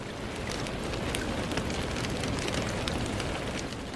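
Steady rain falls outside at night as a dense, even hiss with scattered louder drop taps, constant throughout with no speech.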